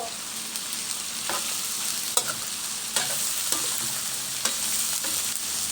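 Fish frying in a pan, steady loud sizzling with occasional sharp pops and a few soft scrapes of stirring, close up and without voices.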